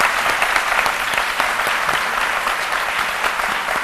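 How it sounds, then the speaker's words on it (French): A television studio audience applauds a couple on a French-language talk show with sustained, dense, even clapping that stays loud throughout and has no voices over it. "Le couple d'Aleba que je vous demande d'applaudir."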